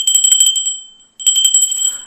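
A bright electronic notification bell rings in two quick bursts of rapid chiming tones, loud and clean, with a brief silent gap between them.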